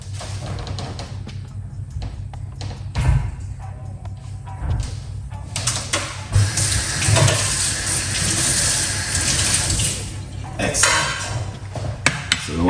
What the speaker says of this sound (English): wash off the avocado.